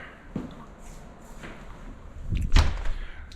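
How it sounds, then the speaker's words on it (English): A shop door swings shut with a solid thud near the end, preceded by faint shuffling and a softer knock, heard up close in a quiet room. "Let me shut this door."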